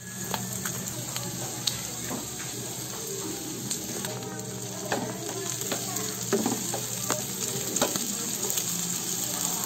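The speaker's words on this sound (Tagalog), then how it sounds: "Pwede ko na igisa ang ating kangkong." Kangkong (water spinach) sizzles and crackles steadily in a hot pan as it is sautéed, with occasional stirring clinks, while a person talks over the cooking.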